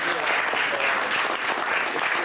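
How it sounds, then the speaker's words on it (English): Sustained applause from a crowd at a club meeting, dense and steady throughout at moderate loudness with no pauses. "I think Larry needs a large round of applause for all the work he's done."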